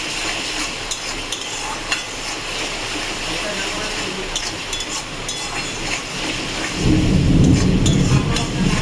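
A deep rumble of thunder rolls in near the end, loud and sustained, over a steady kitchen background of sizzling and stirring while fish cooks in a pan.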